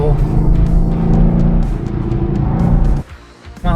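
A Chevy SS (Holden VFII Commodore) is driven fast through turns on residential streets, its engine droning loud and steady from inside the car as someone talks over it, then easing off briefly.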